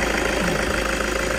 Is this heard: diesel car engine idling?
yes